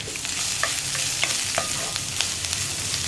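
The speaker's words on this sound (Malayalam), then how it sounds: "ഇതും ചേർത്ത് ഒന്നിളക്കുക" Okra rounds and green chilies are stirred in a pan for Kerala vendakka masala, with a continuous sizzle and repeated light scraping clicks from the spoon, close and without voices.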